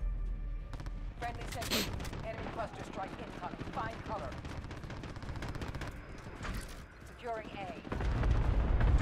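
Shotgun fire in Call of Duty: Modern Warfare, a rapid run of loud gunshot bursts mixed with game effects, with voices talking over the action.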